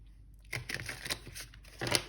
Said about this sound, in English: Let me shuffle them again.